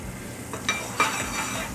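Butter sizzling in a hot omelet pan, a steady soft frying hiss with a couple of light scraping clinks of utensil against pan along the way.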